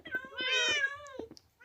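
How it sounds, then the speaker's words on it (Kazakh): A cat in the Minecraft video game meows in one drawn-out, high call, with shorter bits of voice-like sound before and after it. "Қайта мысық шыға береді екен, толып кетті ғой"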